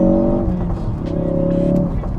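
Ford Focus RS with a Mountune-optimized Accessport tune pulling in first gear, a loud close engine drone with rising tones heard from inside the car, briefly dipping as the revs change.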